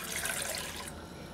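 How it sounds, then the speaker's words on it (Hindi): One cup of water pours into a pot on a gas stove, a short splashing hiss that stops abruptly partway through. "अब हम इसमें डाल देंगे 1 कप ऑफ वाटर"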